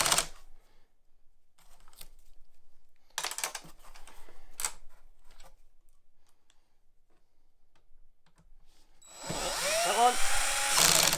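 A Phillips screwdriver tightens screws on the stand of a Samsung CHG90 super-wide curved monitor, giving scattered small ticks and scrapes over a quiet background, then a louder, close rustling burst near the end.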